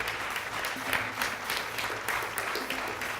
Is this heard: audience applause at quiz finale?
yes